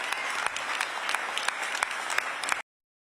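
Clapping and cheering from a rally crowd for Lieutenant Governor Peggy Flanagan's campaign, a dense, even burst of many hands with sharp individual claps poking out, stopping abruptly after about two and a half seconds into silence.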